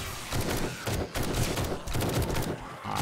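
Rapid, loud automatic fire from a tier 6 TAC rifle loaded with high power ammo in 7 Days to Die during a horde night, bursts of shots in quick succession with brief pauses between.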